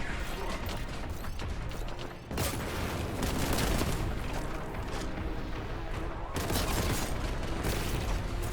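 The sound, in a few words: exploding barrel in video game Warhammer 40K Boltgun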